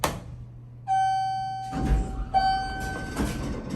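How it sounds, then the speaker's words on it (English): A US soft-touch hydraulic elevator door slides with a low rumble and a thunk, while a steady chime tone sounds and cuts off, then rings again, all heard up close. "For the bell to stop ringing, and we'll close up the door."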